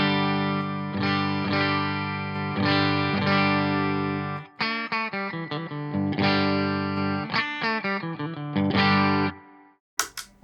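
An electric guitar plays sustained chords, then a choppier rhythmic passage, with a slightly driven, pushed clean tone from a Laney Lionheart Loudpedal boost and a touch of spring reverb, played on an Ibanez AZES31.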